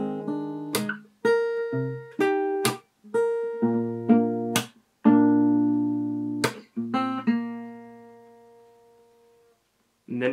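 D: Solo fingerstyle guitar plays the first line of the verse, a run of plucked notes and chords with percussive slaps and sustained ringing tones, close and clear, ending on a long decaying note.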